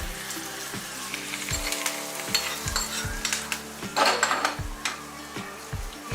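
Hot oil tempering with green chillies and curry leaves sizzles loudly as it hits a raw mango dal. A steady frying hiss carries on throughout, with rhythmic clinks of a spoon or pan at a near distance.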